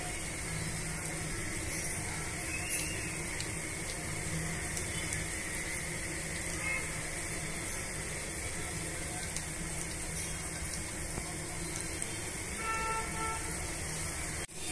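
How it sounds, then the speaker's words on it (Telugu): Pakodas deep frying in hot oil make a dense, steady hiss and crackle throughout, close and continuous with no talk. "ఇలా అన్నీ కూడా డీప్ ఫ్రై చేసుకోవాలండి"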